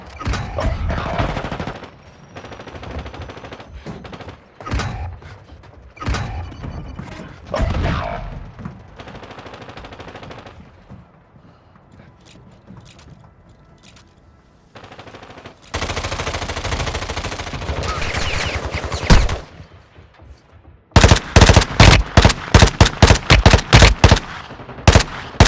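Loud bursts of rapid gunfire crackle on and off in Call of Duty: Warzone Mobile, ending in a fast run of sharp automatic shots. Shouting and other game noise break in between.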